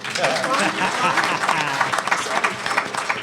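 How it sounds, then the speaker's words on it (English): Audience clapping in a support-group meeting room, dense and close with voices mixed in, rising quickly and holding at a lively level for a few seconds. "you can clap for it"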